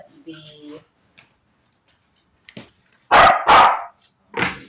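A dog barks several times in quick bursts, loud and close, with a faint voice and some quiet rustling earlier.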